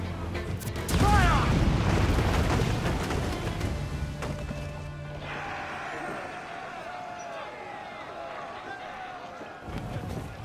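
Ship cannons boom in a naval battle at a Caribbean castle raid in Assassin's Creed 4 Black Flag, a heavy blast up front that decays into rumbling and creaking, with shouted voices mixed in.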